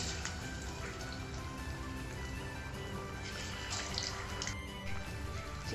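Marinated chicken pieces fry in hot oil for an instant chicken biryani, giving a steady dense sizzle and crackle with scattered pops, close and even throughout, with no speech.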